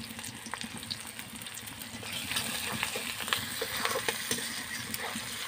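Chopped onion with chili powder and turmeric powder frying in a pan makes a steady close sizzle with occasional stirring clatter. The sizzle grows louder partway through and carries on without talk.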